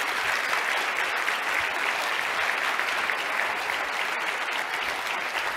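Sustained, dense applause from an audience at a Las Vegas economic development event, steady and loud throughout with no talk over it.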